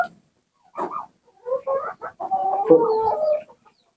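Kadaknath chickens on a poultry farm clucking and calling close by, a few short bursts followed by a longer run of throaty clucks, with quiet gaps between.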